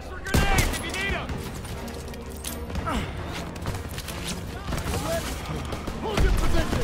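Dense World War II battle gunfire from the Call of Duty WWII video game, with sustained rattling bursts and thudding impacts over several seconds while soldier voices shout orders beneath and between the shots.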